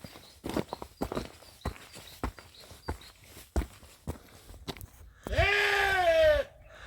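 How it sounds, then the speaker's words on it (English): A sheep on a Mallorca mountain trail in the Tramuntana range gives one long, close, wavering bleat, following a run of crunching hiker footsteps on rocky ground. "So it's a sheep, not a goat, I think."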